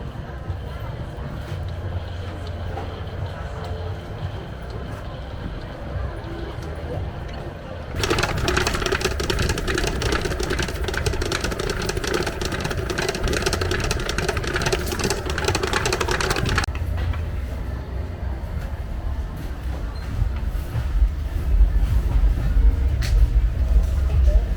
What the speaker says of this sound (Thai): ตีเกียร์เบาครับ